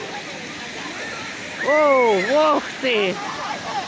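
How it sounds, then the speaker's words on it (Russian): Water sprays from the Crown Fountain in Chicago as a steady, broad rushing hiss, loud and close, while a person lets out surprised exclamations over it. "Ой, как он стал водой поливаться."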